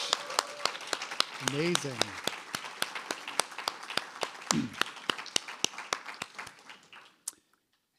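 Sparse audience applause, scattered distinct claps ringing out steadily for about seven seconds before stopping, with brief voices speaking over them.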